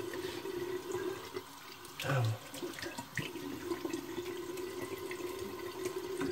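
Tap water running into a sink while a face is rinsed after a shave, a steady low splashing flow with short bursts and drips as hands move through the stream.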